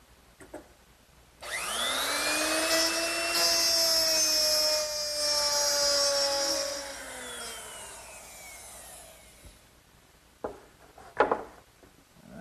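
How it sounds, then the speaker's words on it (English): A woodworking router fitted with a 1/2 inch mortising bit plows grooves along a clamped straight edge, spinning up to a loud sustained whine that holds for several seconds, then winds down, followed by a few handling knocks. "using a nice straight edge, which is clamped in place so that the router can ride against it, I'll plow out each groove using a 1/2 inch mortising bit"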